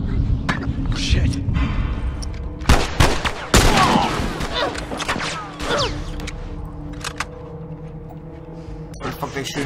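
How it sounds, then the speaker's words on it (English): Bursts of gunfire in The Last of Us, loud volleys of shots with sharp cracks and echoing reports over several seconds, followed by quieter scattered shots and movement. "Where the fuck they shooting at?"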